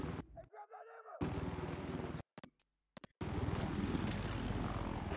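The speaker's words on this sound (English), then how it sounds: "This helicopter's a lot quicker than I remember." Military helicopter flying in the video game Battlefield 4, a steady loud rotor and engine drone that cuts out briefly mid-way, then returns at full strength.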